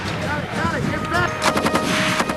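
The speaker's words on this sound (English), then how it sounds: "The most renowned general-purpose machine gun has been the Belgian-made Mitrailleuse de Puits Général, better known as the Mag 58" A Belgian-made Mag 58 general-purpose machine gun fires medium-caliber 7.62 rounds in loud, rapid bursts, the cracks running together with heavy echo, while a narrator talks over the shooting.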